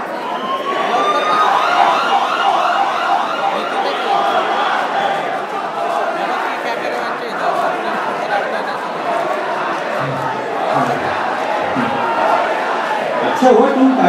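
An ambulance siren wails loudly and continuously, rising and falling close by, over a busy background of crowd chatter and voices.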